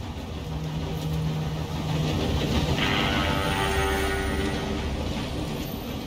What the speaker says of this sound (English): Rest of you, follow Micah and I, and join once they stop the train.